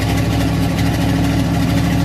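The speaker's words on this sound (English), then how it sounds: "One side of the carburetor is not feeding gas down one side of the engine when it's idling. That's the reason why it sounds funny" An engine fitted with a 2-barrel carburetor idles roughly, one side of the engine not getting fuel, giving a loud, steady low rumble with an uneven, lumpy pulse close up and no voices.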